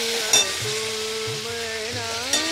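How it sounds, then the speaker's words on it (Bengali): Broccoli and potatoes fry steadily in a pan with a continuous sizzle, broken by a few low knocks and scrapes of stirring and two brief sharper clatters; no one speaks. "এখন ব্রোকলি আলু ভাজা করে নিচ্ছি"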